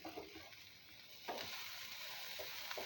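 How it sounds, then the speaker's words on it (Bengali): Chicken frying in a pan with chopped tomatoes, a steady soft sizzle with a few louder stirring bursts, fairly close and with no voices. "এখন আমি এটা সুন্দরভাবে কষিয়ে নেব"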